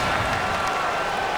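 Stadium crowd roar from Madden NFL 19, a Washington Redskins versus Dallas Cowboys game with home crowd noise after a false start, heard as a steady, dense wash of applause and cheering throughout.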